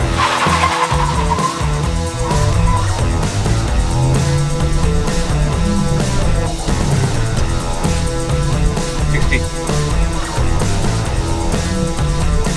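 An E20-compliant car accelerates hard from a standstill during a launch test, its loud engine roar and tire noise rising steadily and filling the whole stretch without a break.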